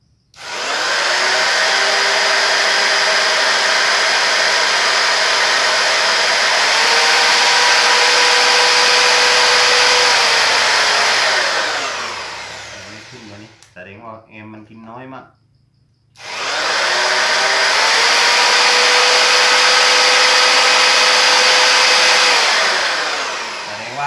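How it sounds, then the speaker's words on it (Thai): A loud electric drill whirs steadily at close range, briefly stops for a couple of seconds, then spins up and runs again at full speed. "เดี๋ยวมากดสว่านลองดู"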